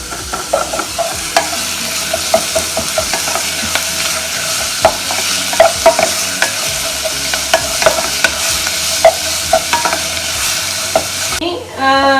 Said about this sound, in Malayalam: വെളുത്തുള്ളിയും ഇഞ്ചിയും കുരുമുളകും പച്ചമുളകും ഒക്കെ കൂടിയത് ഒന്നിട്ടിട്ട് നന്നായിട്ട് വഴറ്റാം.